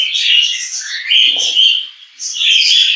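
Several male cage birds chirp and trill continuously, high-pitched and close, with short busy phrases overlapping in a lively cage chorus.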